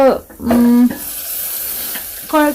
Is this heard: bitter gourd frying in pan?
yes